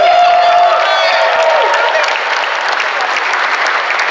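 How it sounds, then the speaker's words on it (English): A crowd at an election night event for a Memphis candidate breaks into loud, dense applause for a retired campaign supporter, with scattered cheers and voices mixed into the clapping. "Let's give Miss Ruthie a round of applause."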